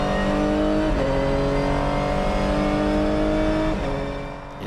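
A race car at Motorland Aragon accelerates at full throttle, a loud, close, continuous engine roar climbing steadily in pitch, with a quick shift at about one second and another near the end as the sound begins to fade.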